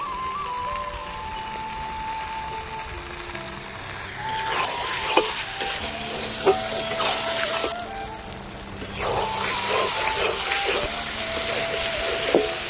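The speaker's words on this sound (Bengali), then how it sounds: "এখন আমি কাঁচা লঙ্কা ফাড়ি দিয়ে দেবো" Slit green chillies sizzle in hot oil in a village kitchen pan for a local fish chorchori, with steady frying hiss and occasional clinks of a spatula stirring, the sizzle growing louder midway.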